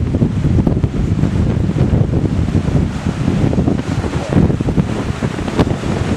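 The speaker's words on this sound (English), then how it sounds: "But I tell you, it is windy, windy," Strong wind buffets the microphone on a stormy Pacific Ocean shoreline, a steady loud roar with gusty swells and surf beneath, no voices.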